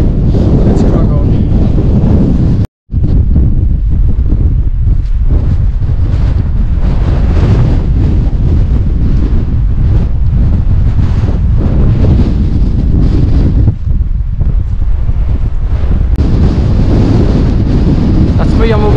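Strong wind buffets the microphone on the exposed approach to the Cheviot near Scotsman's Knowe in freezing cold, a loud continuous roar and rumble that swamps everything, with a voice partly buried beneath it.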